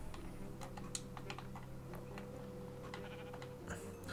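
A Minecraft sheep bleats a few times, fairly faint, against light background game ambience with scattered clicks like keyboard typing.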